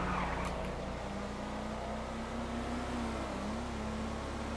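SUV engine in GTA FiveM, a steady droning hum with a faint rising whine as it drives, even in loudness, with no talking.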